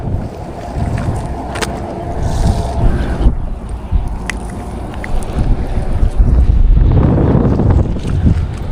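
Strong northeast monsoon wind blows at sea around a fishing boat, a heavy continuous roar and buffeting close to the microphone that swells louder toward the end, with no talk.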